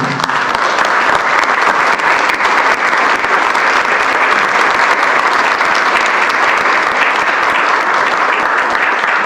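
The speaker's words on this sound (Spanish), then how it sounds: "un aplauso para ustedes, por favor, por estar aquí" A large audience at a fireworks museum presentation claps steadily for about nine seconds, a dense, loud, continuous wash of applause filling the room with no pause.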